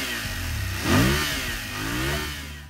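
Engine of a BMW F750 GS with its 853cc parallel-twin and stock exhaust, a steady mid-pitched drone that swells in one quick throttle blip near the start, then settles and rises again gently, close and alone.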